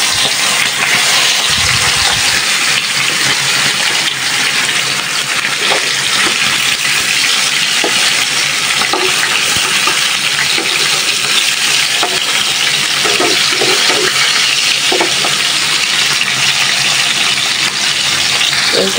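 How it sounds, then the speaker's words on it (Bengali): Chicken pieces for a roast frying in a pan, giving a steady, loud, continuous sizzle and crackle across the whole stretch with occasional stirring knocks and no talking. "রোস্টের জন্য মুরগিটা আমি ভালোভাবে ভেজে নিচ্ছি।"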